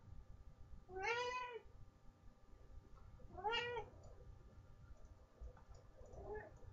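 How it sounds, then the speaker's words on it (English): A house cat meows twice in the background, faint and somewhat distant, with a softer third mew near the end over light clicking room noise. "My cat's in the background meowing, clearly."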